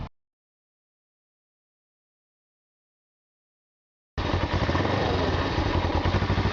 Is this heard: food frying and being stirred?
no